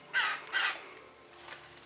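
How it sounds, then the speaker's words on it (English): Two loud caws from crows at a wildlife sanctuary, close and clear in quick succession, followed by a fainter third call. "A crow. Crows."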